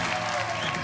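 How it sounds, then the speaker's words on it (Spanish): A television studio audience applauds the actor Luis Brandoni, a brief, full burst of many hands clapping at once. "Un aplauso para el maestro Luis Brandoni"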